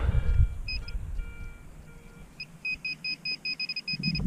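Electronic beeps from a metal detector sweeping a field, scattered at first, then a quick run of short, regular high tones, close up over faint rustling.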